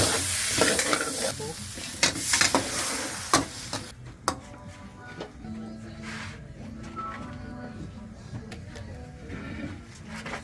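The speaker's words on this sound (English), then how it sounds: "In with the prawns." Prawns dropped into a hot pan at a beach lounge kitchen, loud crackling sizzle and clattering stirring at first, then a quieter steady frying hiss with scattered scrapes.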